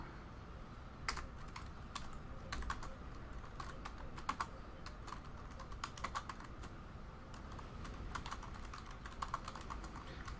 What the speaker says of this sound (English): Sorry, I'm just typing here.